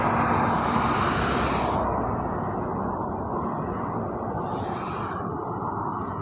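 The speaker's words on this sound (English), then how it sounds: "Airplanes." An airplane passes at a distance outdoors, a broad steady roar that swells and fades gently over several seconds, heard alone with no talking.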